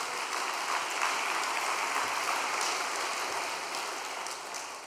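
A church congregation gives a sustained round of thankful applause at a special all-night prayer devotion, a soft, even, rain-like patter of many hands heard from a distance, with no talking.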